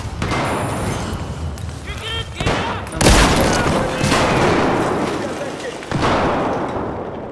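Battlefield 4 gameplay with dense, loud gunfire throughout, including a sharp grenade blast near the middle and another heavy impact later, while players talk over the constant shooting.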